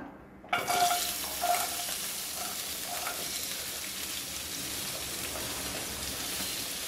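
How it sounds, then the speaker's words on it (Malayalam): Sliced onions tipped into hot oil for mutter paneer set off a sudden loud sizzle with a few stirring clatters, then settle into a steady close frying hiss. "കുറച്ചും കൂടി ഓയിൽ ഒഴിച്ചിട്ട് നമുക്ക് ഈ സവോള ഇതിലേക്ക് ചേർത്ത് കൊടുക്കാം"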